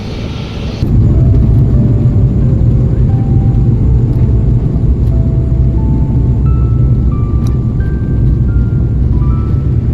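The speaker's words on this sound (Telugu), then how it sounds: "ఫ్లైట్ స్టార్ట్ అయిపోయింది, ఇక ఫ్లయింగ్ కోసము. ఇది రన్వే పైన." A loud, steady engine roar starts abruptly and holds, with rising tonal whines layered on top, as a small passenger plane begins its takeoff run on the runway at Bangalore airport.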